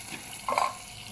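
A potato, pea and tomato vegetable curry being tempered in a hot pan gives a short, close sizzle and stir that lasts about a quarter second.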